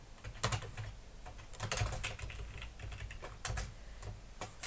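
Rapid keystrokes on a computer keyboard while code is entered, a steady irregular patter of close clicks with a few louder bursts and no talking.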